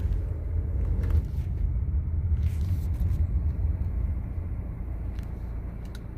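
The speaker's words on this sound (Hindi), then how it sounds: "अब मैंने फिर से ब्रेक छोड़ दिए, गाड़ी हमारी फिर से चल पड़ी।" Maruti Suzuki S-Cross running on CNG, its engine restarting under auto start-stop as the brakes are released, a steady low idle rumble throughout with a few faint clicks.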